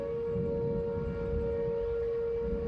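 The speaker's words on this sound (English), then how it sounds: "sent us this video of the tornado sirens going off" A tornado siren in Maryville, Illinois sounds during a spring storm: one steady, sustained wail that holds at an even pitch and level throughout, over faint background noise.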